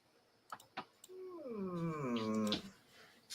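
A puppy lets out a drawn-out, rising whine of frustration lasting about a second and a half, close by, framed by a few faint clicks and taps.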